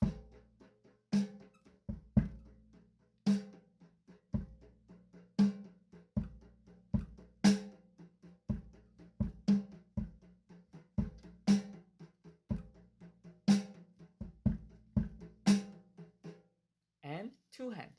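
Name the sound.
drum kit playing 16 beat pattern with one hand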